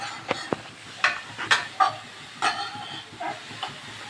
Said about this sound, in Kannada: ಇದೆಲ್ಲ ಅಬ್ಸರ್ವ್ ಆಗೋ ತನಕ ಇದನ್ನ ಫ್ರೈ ಮಾಡ್ತಾನೆ ಇರಬೇಕು